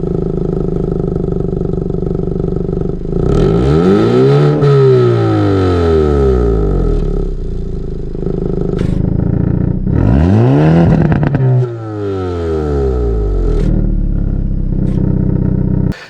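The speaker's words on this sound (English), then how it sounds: "you can just change the exhaust sound as well" Sports SUV with selectable exhaust sound revving hard twice, each loud rise and fall of the engine note standing alone over a steady idle rumble, close and powerful.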